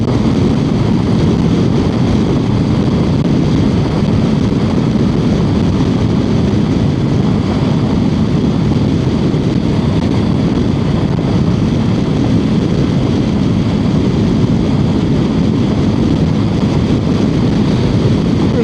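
A plane taking off from an airport runway near a bridge, heard as a steady, loud, broad engine roar that holds throughout, mixed with road and traffic rumble from a moving car.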